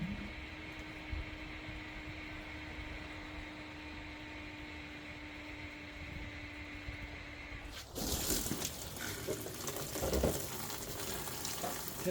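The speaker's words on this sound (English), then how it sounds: "open up the valve and then squirt some water in here to kind of clean this line out" A steady machine hum from a sugar syrup mixer gives way to a sudden, louder gush of water squirted through the mixer line to flush it, rushing and splashing close by.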